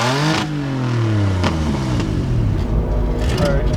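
A car engine running roughly at close range and about to stall, its uneven revs rising and dipping as it sputters, loud and continuous.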